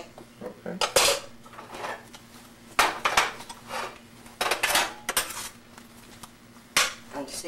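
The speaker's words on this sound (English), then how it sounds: "Now we're going to dump all the potatoes in this." Potatoes dumped into a grinder bowl while baking knishes, several loud clattering knocks and scrapes of bowl and utensils in uneven bursts, close by, with no talk over them.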